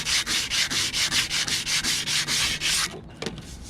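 Rhythmic back-and-forth sandpaper strokes scrub surface rust off a brake rotor, about a dozen steady close passes, then a pause and a couple of lighter rubs at the end.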